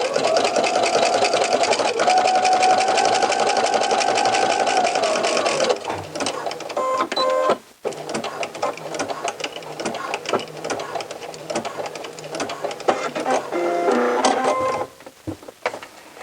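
A sewing machine runs steadily while stitching the hem of a knit sweater, then continues in shorter uneven bursts as fabric is guided over a seam, close and fairly loud with no talking.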